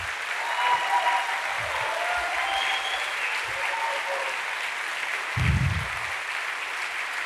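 A standing church congregation keeps clapping in a sustained, dense wave of applause, with faint voices and a short low thump near the end.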